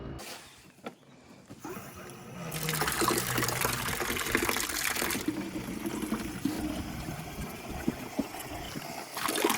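Water gushes from a tap or hose into a container for chickens on a homestead, starting quieter then swelling into a steady loud rushing fill, with a few clunks and handling noises.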